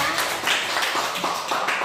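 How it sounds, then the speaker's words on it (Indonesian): Classroom students applauding a presenting group, a steady crowd clatter of many hands at close range lasting about two seconds, with no talk over it. "kita kasih tepuk tangan untuk kelompok 2"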